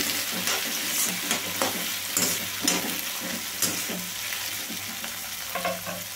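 Tomato pieces fry and sizzle in a pan for puffed rice upma, with steady crackling oil and repeated spatula stirring scrapes, close and fairly loud, no talking.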